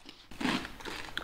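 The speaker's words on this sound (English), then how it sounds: "That's a good crunch." Biting into a thick-cut Austrian rosemary potato chip gives a sharp, close crunch followed by a few quieter crackling chews, with no talking.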